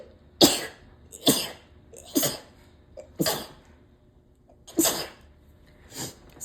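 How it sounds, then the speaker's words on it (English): A run of six loud, sharp sneezes from one person, close to the mic. Each burst is abrupt and airy and comes at a fairly even pace about a second apart, with quiet gaps between. "That was actually a fairly normal sneeze for me."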